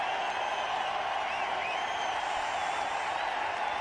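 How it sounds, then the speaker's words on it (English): A cricket crowd at a Test match in Mohali roars and applauds after Sachin Tendulkar reaches a half-century against Australia, a steady, dense wash of distant cheering with no break. "As he raises his bat there, the crowd goes wild."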